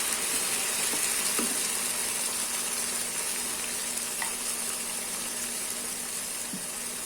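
Onion, green chili, ginger, garlic and mint-coriander paste sautéing in a pan for plain biryani, a steady soft sizzle throughout with a few faint clicks of stirring, no voices.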